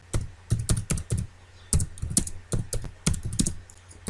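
Computer keyboard typing in short bursts of quick, close keystrokes, pausing between words while entering PHP code, with no voices.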